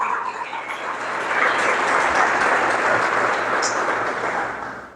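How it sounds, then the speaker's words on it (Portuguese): A church congregation applauds during a sermon, a broad wash of clapping that swells and holds steady before easing off at the end. "pode aplaudir o Senhor"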